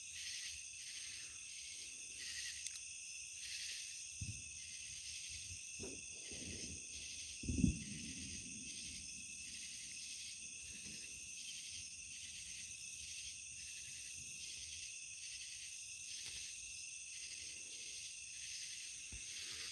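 Insects chirp outdoors at nightfall in Crawfordville, a faint steady high-pitched chorus running throughout, with a few soft thumps and rustles nearer by, especially one brief louder knock midway.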